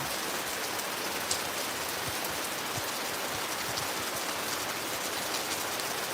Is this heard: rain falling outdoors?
yes